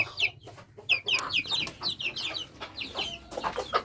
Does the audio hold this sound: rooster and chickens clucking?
yes